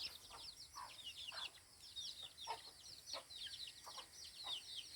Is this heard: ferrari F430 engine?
no